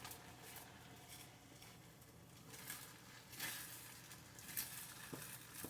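Egg whites cooking in a heated pan give off a soft, steady sizzle with faint crackles, low and continuous throughout with no voices.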